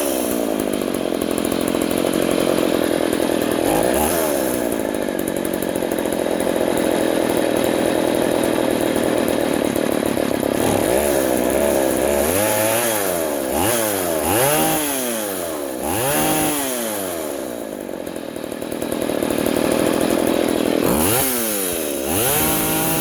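A vintage Poulan 3400 Countervibe chainsaw runs loud and close after carburetor tuning, idling steadily before revving up and down repeatedly in rising and falling bursts.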